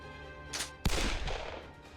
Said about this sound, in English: the cracks of a gunshot took the breath right out of me